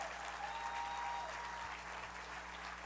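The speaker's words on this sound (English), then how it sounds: "Let's give him another round of applause." A conference crowd applauds at a keynote, a steady, even wash of many hands clapping that holds at a constant level from start to finish, heard from within a large room.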